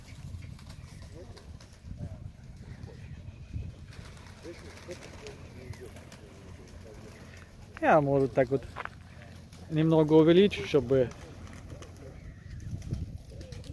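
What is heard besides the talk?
Baku wide-tailed pigeons cooing during a flock flight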